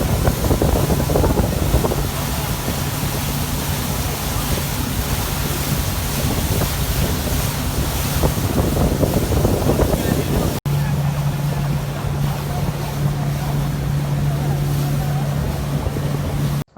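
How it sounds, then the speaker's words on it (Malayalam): A boat motors across sea waves toward the shore at Khorfakkan beach as darkness falls, giving a loud, steady engine drone mixed with rushing wind and water for the whole stretch, with a brief cut near the end. "നമ്മുടെ ബോട്ട് കര ലക്ഷ്യമാക്കി ഓടിക്കൊണ്ടിരിക്കുകയാണ്"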